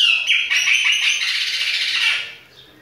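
A female viúva de faísca songbird sings a bright, continuous run of high twittering notes, close and clear, fading out near the end.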